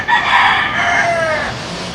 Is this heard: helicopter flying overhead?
no